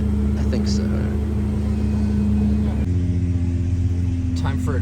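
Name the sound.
Lamborghini car engine running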